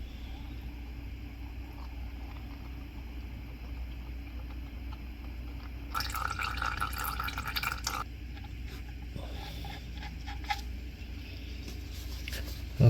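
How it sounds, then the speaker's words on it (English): Transmission fluid drains from the DCT gearbox of a 2011 Ford Focus turbo diesel, a faint steady trickle over a low hum, with a brief louder splashing burst partway through. "drain the oil."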